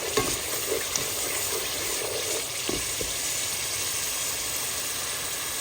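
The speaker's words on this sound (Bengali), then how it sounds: "রোস্টের মশলাটা ভালো করে কষিয়ে নিতে হবে।" Spice paste for a meat roast frying in a pan: a dense, steady hiss of hot oil fills the sound, with a few faint stirring knocks, close by and with no talking.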